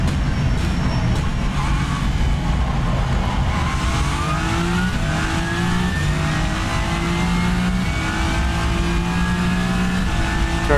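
Race car engine in rFactor 2 lapping Sebring, loud and continuous from start to finish, its pitch rising and falling through gear changes with no talking.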